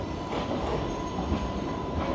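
A train rolling slowly past at a Sydney station, a continuous low rumble of wheels and carriages with a faint steady tone on top, close and fairly loud, no voices.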